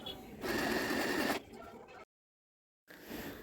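A sewing machine stitches two bedsheet pieces together in one steady burst of whirring, then slower running, a silent gap, and a brief restart; a voice speaks faintly in between.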